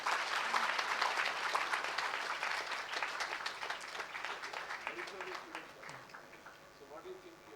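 A graduation day audience at NIFT Bangalore applauds an award winner from the fashion design department, a broad wash of clapping that is strongest at first and gradually thins and fades, with faint voices underneath.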